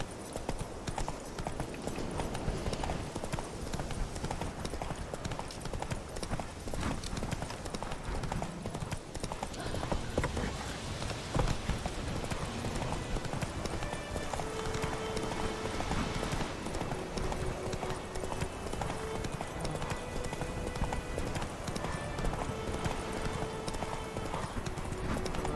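Roach, the horse in The Witcher 3, trots with a continuous rhythmic clip-clop of hooves alongside game ambience and occasional whinnies, holding a steady moderate level throughout.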